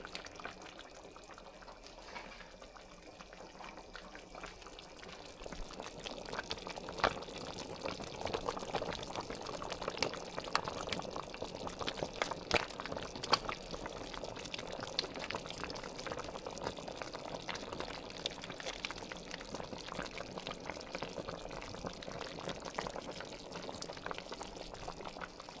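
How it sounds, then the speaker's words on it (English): Coconut milk from a can pours into a pot of Filipino chicken curry, a soft steady glugging and splashing of thick liquid that runs on quietly for a long stretch over faint kitchen background noise. "I'm also adding the can of coconut milk"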